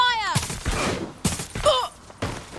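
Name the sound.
gunfire in video game Watch Dogs: Legion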